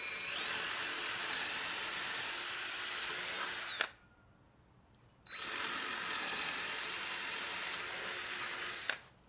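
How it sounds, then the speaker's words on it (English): A power drill bores a 3/8 inch hole in aluminum or wood for a screen printer stand, two loud steady whining bursts of about four seconds each separated by a short pause. "You're going to drill a 3/8 inch hole right in the center, right where those pins are."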